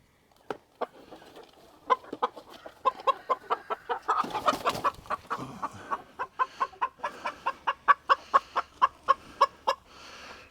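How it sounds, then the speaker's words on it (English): A rooster clucks in a long run of short, sharp, rhythmic calls, close by, with a brief burst of rustling partway through. "Beautiful, beautiful rooster."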